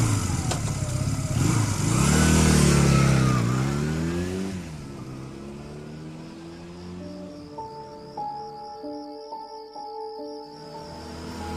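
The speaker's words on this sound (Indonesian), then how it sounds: "Buru-buru aku menyalakan motorku dan langsung tancap gas pulang ke rumah" A motorcycle starts up and revs loudly nearby, climbing through rising engine pitches as it accelerates, then fades into a steadier, quieter running tone while riding away.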